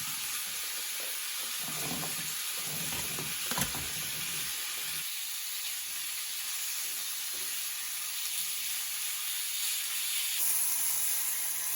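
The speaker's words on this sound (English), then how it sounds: "Same way I'm going to grind the chickpeas along with the red pepper." Electric grinder blending chickpeas with red pepper and a little water into hummus, a steady whirring hiss that runs continuously, fairly loud and close, with no talking.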